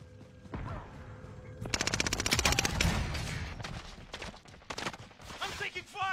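Video game gunfire crackles in rapid automatic bursts, close and sharp, stopping and restarting over several seconds. Voices talk over the shooting.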